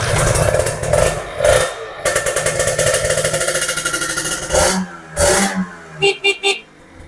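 A 2012 Kawasaki Ninja RR two-stroke motorcycle revs up close in bursts, its engine rising and falling several times over a few seconds, with sharp throttle blips toward the end and no voices.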